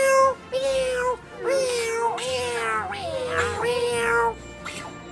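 Several small kittens meow in turn, a run of six or so high, drawn-out cries close to the mic, some overlapping, with brief pauses between them.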